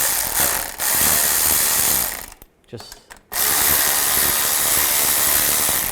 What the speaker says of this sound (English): Then I'm going to take a 6mm Allen socket and tighten these down.